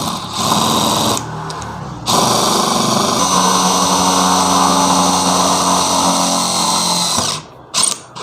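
A DeWalt DCF801 impact driver whirs loudly and continuously for several seconds driving a self-drilling screw, pausing briefly, then spins up again before cutting off.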